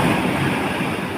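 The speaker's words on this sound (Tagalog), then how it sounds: "Grabe, ang lakas ng alon." Strong ocean waves crashing on a shore, a dense continuous roar of surf mixed with wind rumble, loud and close, with no voices.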